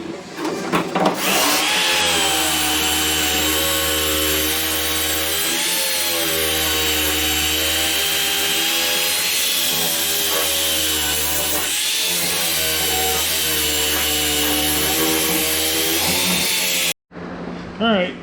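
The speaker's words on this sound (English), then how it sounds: "Alright, we got more stuff sanded." Power sander working a Cutlass quarter panel, a loud continuous whirring buzz that shifts slightly in pitch as pressure changes, running steadily before cutting off near the end.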